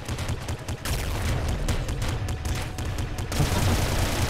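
Rapid volleys of heavy, booming blasts from a Quad Plasma Cannon in the game Nuclear Throne, a dense stream of overlapping shots firing continuously and loudly without pause, with no talking.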